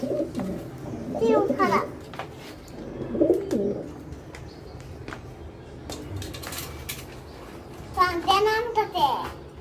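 Sirazi pigeons, a black and brown pair, coo in a few soft rolling bursts near the start, middle and end, mixed with a child's and adult's talk nearby.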